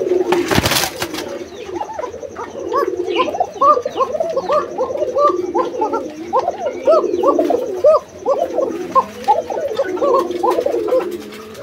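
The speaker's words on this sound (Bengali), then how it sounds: "যারা কোকার ডাক পছন্দ করেন এই কোকা জোড়াটি দেখতে পারেন" Pigeons coo in repeated soft, throaty phrases, loud and close in a large pigeon loft, with a brief clatter at the start and faint background noise.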